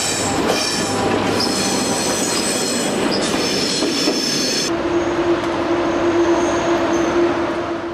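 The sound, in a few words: Le Vauban train hauled by BB 15002 arriving at Luxembourg station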